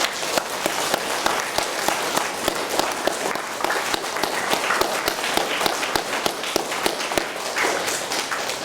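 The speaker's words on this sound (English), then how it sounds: "Should we give your parents a big clap as well?" An audience at a junior school prize giving applauds the parents with steady, dense clapping that carries on for several seconds with no voices over it.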